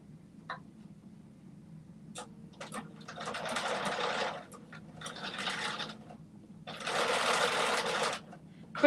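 A sewing machine stitches fabric in short runs: a few brief taps, then three sustained whirring bursts separated by pauses, close and clear over a low background hum.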